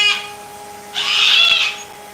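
A strong male pet cockatoo lets out a short screech, a pause, then a longer, louder harsh squawk lasting about a second, close by with no talking.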